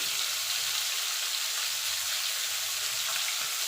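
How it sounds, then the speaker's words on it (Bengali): Tangra fish fry in a pan with a constant dense sizzling hiss, steady and close, with no other sounds. "দেখুন বন্ধু, মাছগুলো ভাজা হতে হতে একটা মশলা রেডি করে নেব।"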